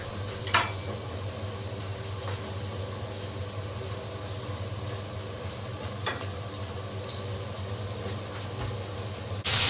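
Mackerel fillets frying in a pan give a steady, close crackling sizzle throughout, with a few faint clicks and a sharp noise right at the end.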